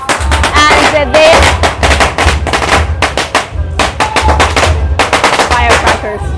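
Strings of firecrackers go off at a Chinese Spring Festival parade, a loud, dense rapid crackle of bursts in continuous volleys close by, with faint voices and whistling tones mixed in.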